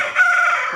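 A fighting rooster of a breed raised for Sankranti cockfights crows loudly and close, one sustained strained call with a bright harmonic tone and no other sounds.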